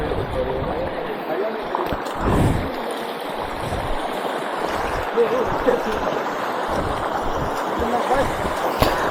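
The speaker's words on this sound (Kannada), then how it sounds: "ನೋಡಿ ಬಾಯ್ಸ್ ಇದೇ ಫಾಲ್ಸ್ ಇದೆ ಅಲ್ಲ ಬರೋದು ನೀರು ಫಾಲ್ಸಿಂದ" Steady rushing and gurgling of a forest stream fed by a waterfall at Ukkada falls, continuous and fairly close, with voices of people talking intermittently over the flow.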